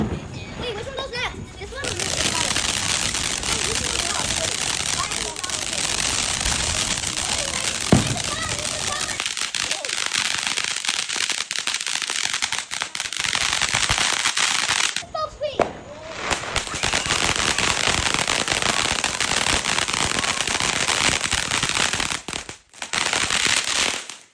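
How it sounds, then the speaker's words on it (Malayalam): Small backyard fireworks and firecrackers set off at home for a child's birthday on July 4th, a loud continuous crackling and popping barrage with sharp bangs, and children's voices heard in the mix. "അത് കഴിഞ്ഞ് ഞങ്ങളുടെ വകയായിട്ടും ചെറിയ കുറച്ച് ഫയർ വർക്ക്സ് വീട്ടിലും ചെയ്തായിരുന്നു"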